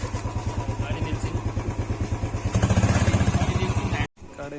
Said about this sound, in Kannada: ಗಾಡಿ ನಿಲ್ಲಿಸ್ತಾ ಇದ್ದಾರೆ